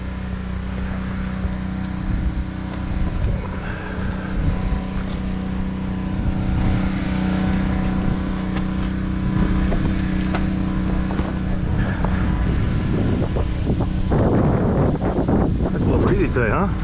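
Wind buffets a rooftop during solar panel cleaning in San Diego, a steady loud rumbling roar that fills the whole stretch, with brief handling noises near the end.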